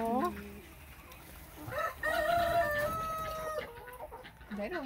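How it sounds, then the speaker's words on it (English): Chickens and roosters on a poultry farm cluck and crow close by, with several rising crow calls and clucks overlapping in quick succession. "The rooster's out there running after each other."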